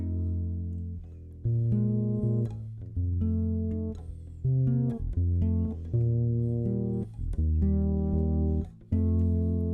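Sustained low bass chords change every second or so in a slow, steady progression, with plucked attacks and warm ringing tones, no voices.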